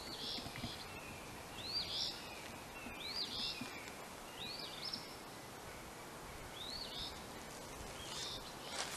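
Small birds in a swamp repeat a short, high chirping phrase about once a second, faint and distant over a quiet rustling background.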